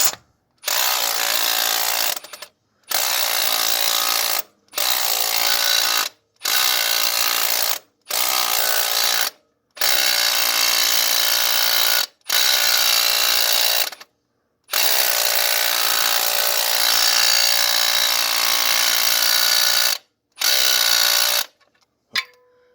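A small power impact gun drives bolts into the engine mounts during a Honda Civic 5-speed swap, firing in about a dozen loud, sharp ratcheting bursts of one to three seconds each, with short silent gaps between them and no talking.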